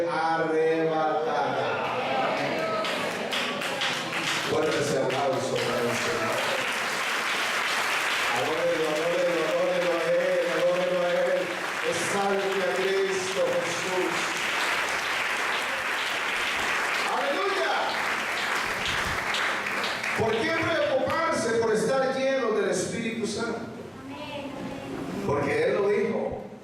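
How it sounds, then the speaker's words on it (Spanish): Congregation applause in a Spanish-language church service, sustained clapping from a crowd mixed under a voice that speaks over it at the start and again near the end. "Fuerte ese aplauso."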